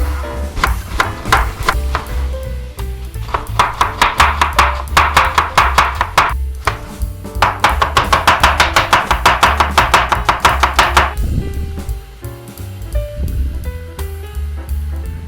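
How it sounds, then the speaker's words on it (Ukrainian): Rapid, steady knife chops slicing an onion into half-rings on a cutting board, coming in quick rhythmic bursts with brief pauses between runs, loud and close. "наріжемо цибульку на півкільця"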